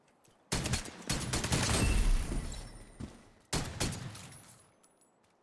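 Gunfire in a video game comes in two loud, close bursts of shots with echoing tails, the first longer and rumbling, the second shorter after a brief gap.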